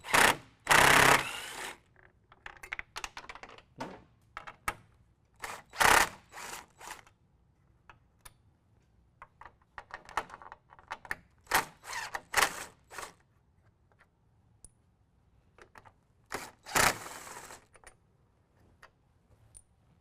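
A ratchet wrench loosens and removes 10mm bolts along the top of a car grille, giving close, quick runs of clicking with sharper clunks and taps between them, alone without talk.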